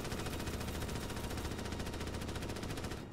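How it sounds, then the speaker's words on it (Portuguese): Rapid automatic gunfire from the video game Starship Troopers: Extermination, a dense continuous stream of shots that stays loud and unbroken until it tapers off at the end. "Estão atirando lá"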